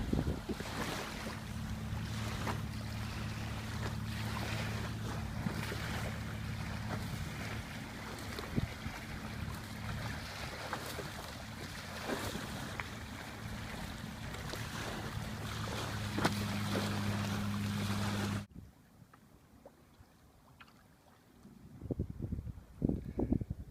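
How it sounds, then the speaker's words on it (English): A fishing boat motors past a canoe on Florida's Indian River Lagoon, a steady low engine drone with wind and water wash around it. The drone drops away suddenly, leaving quieter lapping and splashing. "A fishing boat."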